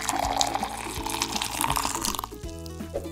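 Recorded water bubbling and trickling, with small bubbles popping, loud and busy at first, then thinning out near the end into a few sparse pops.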